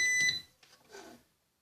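An Orvaldi INV-12-840W UPS with an F05 error gives a brief high electronic beep at the start, then faint clicks and low rustling before it falls quiet.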